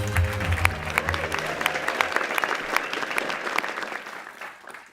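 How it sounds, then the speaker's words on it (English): A conference crowd at Webflow Conference 2024 applauds a team with dense, lively clapping over a fading musical tone at the start, sustained throughout, then tapering off toward the end. "Let's give the team another round of applause."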